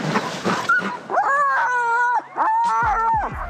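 Eager sled dogs on a long sledding trip yelp, whine and bark in rising, wavering cries close by, several overlapping calls in quick bursts with brief pauses between them.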